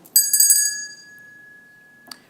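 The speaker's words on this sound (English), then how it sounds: "I begin by ringing this bell to center us all." A single strike of a hand bell at a city council meeting rings out clearly and then lingers as one long, pure, fading tone, with a faint knock near the end.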